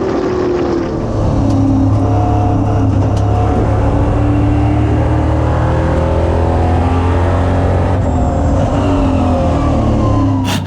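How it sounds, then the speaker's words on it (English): EuroNASCAR race cars accelerate off the start at Valencia, a dense, loud roar of several engines revving up together and climbing in pitch as the pack pulls away. "Flag is on and we are underway and racing here."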